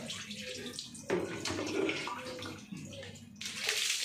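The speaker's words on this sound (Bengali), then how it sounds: "মাথায় ঢেলে দিতে হয় বোকা। পিঠটা ঢেলে দে বাবা।" Water poured by hand over a person's head and back during a home bath, splashing and gushing in several close pours with brief gaps between them.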